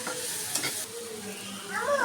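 Vegetables for an iftar meal fry in a pan with a steady sizzle, stirred by a utensil scraping and clattering in short bursts near the listener, with no talking.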